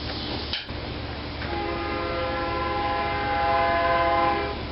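An eastbound train rolls past outdoors with a steady low rumble, then its horn sounds in a long sustained multi-tone blast that grows louder before easing off.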